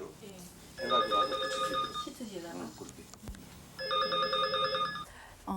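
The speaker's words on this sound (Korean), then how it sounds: "11시경인데 전화벨이 울려서" A telephone bell rings in two bursts of rapid trilling, with people talking quietly between and under the rings.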